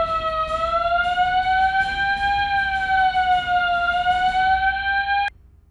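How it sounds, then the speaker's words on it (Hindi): Central house alarm system sounding indoors, a loud steady electronic siren tone with slowly wavering pitch that holds for about five seconds and then cuts off abruptly. "पूरे घर में सेंट्रल अलार्म सिस्टम लगा रखा है।"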